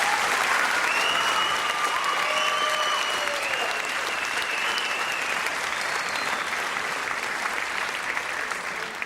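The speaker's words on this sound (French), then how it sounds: "Applaudissements pour vous, s'il vous plaît." Audience applause after a stage comedy show, dense sustained clapping from a large crowd filling the whole stretch, loud and even, with faint whistles or cheers drifting through.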